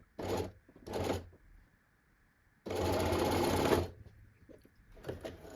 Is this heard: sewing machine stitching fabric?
yes